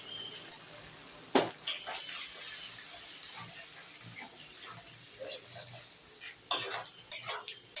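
Ground green chilli and ginger paste is tipped into a pan for an old-style bottle gourd and koi fish curry and stirred. A spoon gives a few sharp clinks and scrapes against the pan over a faint background hiss, with sparse quiet gaps.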